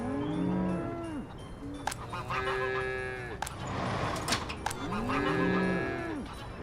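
Cattle in a tropical farming video game moo in repeated, drawn-out calls, several overlapping with honking tones, close and fairly loud over a low ambient bed.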